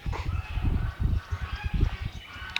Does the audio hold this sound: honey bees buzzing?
no